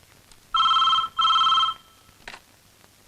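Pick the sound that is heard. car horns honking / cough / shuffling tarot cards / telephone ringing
telephone ringing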